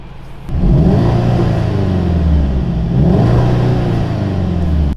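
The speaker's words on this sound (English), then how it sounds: "It's a 300 horsepower hot hatch. So let's do some driving." A 2018 Seat Leon Cupra, a 300-horsepower hot hatch, pulls away with its engine revving loudly and close, rising in two strong surges as it gains speed, with no voices over it.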